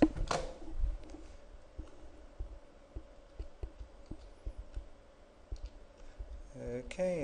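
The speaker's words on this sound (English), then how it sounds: "we'll just type that into the calculator" Calculator keys being pressed to enter numbers, a run of light, evenly spaced clicks at close range, with a louder clatter at the start and near the end.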